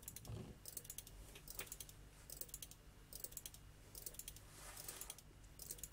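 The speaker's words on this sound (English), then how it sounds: "All the relays are clicking nicely." Relays in a 12-volt flashing light circuit, a faint, quick run of small irregular clicks repeating in rhythmic bursts, with no talk.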